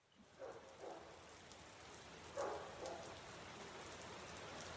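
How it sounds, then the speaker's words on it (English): Rain falls outdoors as a faint, steady hiss of drops pattering on surfaces, with a few soft swells and low thuds, distant and quiet, no voices. "Oh, rain."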